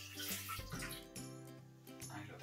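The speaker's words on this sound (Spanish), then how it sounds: "empezamos por añadir el agua." Water pouring into a Thermomix bowl for pizza dough, a continuous splashing gurgle with a shifting tone, close and fairly quiet, with faint music in the background.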